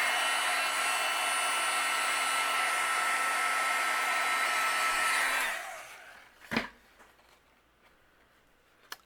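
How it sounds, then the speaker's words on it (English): A heat gun blows steadily and loudly while melting embossing powder on a stamped floral card, then cuts off, leaving a couple of faint clicks and taps. "I'm going to use my heat gun and I'm going to melt the embossing powder."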